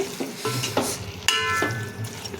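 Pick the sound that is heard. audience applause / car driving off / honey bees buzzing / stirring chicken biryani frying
stirring chicken biryani frying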